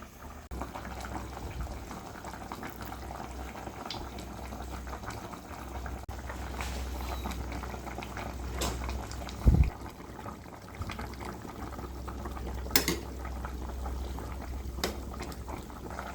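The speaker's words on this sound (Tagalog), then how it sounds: "dadagdagan ko naman daw yung sabaw" Extra broth is poured into a pot of boiling chicken tinola soup. It makes a continuous bubbling, liquid rush for the whole stretch, with one sharper splash or knock midway and no talking.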